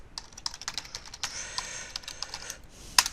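A user ID and password being typed on a computer keyboard, a close run of quick, crisp key clicks at an uneven rhythm, ending in a firmer burst of keystrokes, with no talking.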